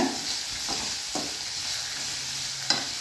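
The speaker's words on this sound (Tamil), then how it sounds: "இதை வந்து லைட்டாக பச்சை வாசனை போகிற அளவுக்கு வதக்கிக்கலாம் நல்லா இந்த மாதிரி வதக்கி விட்டுக்கோங்க" Garlic, onion and tomato sautéing in a pan for chutney make a soft, low sizzle, broken by a few gentle scrapes of a stirring spoon.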